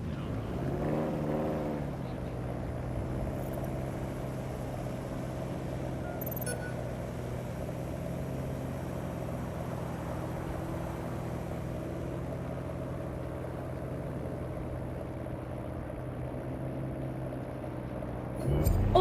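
Car cruising on auto drive in the video game Watch Dogs: Legion: a steady, even engine hum and road drone that holds constant for the whole stretch, with a brief bump near the start and end.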